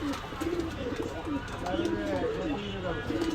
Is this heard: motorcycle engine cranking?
no